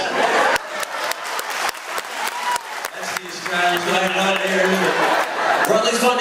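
Audience clapping in a game-show studio, sharp individual claps at first, then someone talks over scattered applause and some laughter, fairly loud and close.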